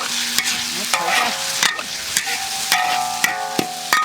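Diced chicken breast stir-fried in a wok for kung pao chicken, with repeated sharp metal spatula clanks against the pan over a steady sizzle, close and loud.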